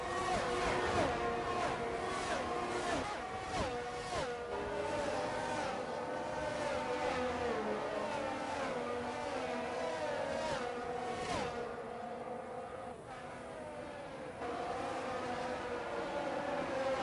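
Ferrari race car engines in a racing video game at Bahrain, several cars droning and revving with rising and falling pitch sweeps as they shift, loud and continuous, with faint commentary voices underneath.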